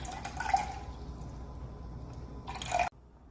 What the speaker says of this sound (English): Now it's time to put the water in.